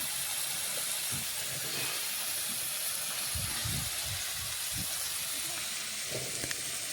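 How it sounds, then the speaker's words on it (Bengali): Boiled potato pieces go into tomatoes frying in oil, giving a steady, fairly quiet sizzling hiss with a few soft low thuds near the middle. "এই দেখুন আলুগুলো দিয়ে দিচ্ছি।"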